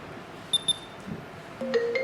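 A car's multifunction steering wheel controller, a Controlix 1 fitted to a standard wheel, links to a phone that gives short electronic tones as an incoming call arrives: a few faint chirps, then a brief melodic ring, all quiet and close.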